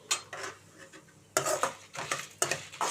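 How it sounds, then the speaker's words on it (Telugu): Dry red chillies roasting over a low flame in a hot kadai for gongura chutney, with a spoon scraping and clinking against the metal in repeated close strokes and a faint sizzle between them. "ఎండుమిర్చి తొందరగా వేగిపోతాయి, మాడకపోతే దోరగా వేయించుకోవాలి."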